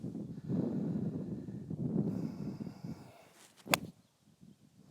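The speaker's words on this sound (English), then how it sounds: "you can start to hear the wind" Wind gusts across a golf course on a very windy afternoon, a rough rumbling buffet that rises and falls for several seconds before easing, with a brief sharp whoosh near the end.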